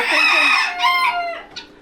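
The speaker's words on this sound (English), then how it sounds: "there's too many roosters in here" A rooster crows loudly and close by in a crowded farm chicken pen at -50°C, its call rising and falling over a couple of seconds, with a short hen clucking note near the end.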